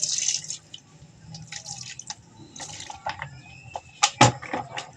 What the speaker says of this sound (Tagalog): Lagyan natin siya ng sukang puti.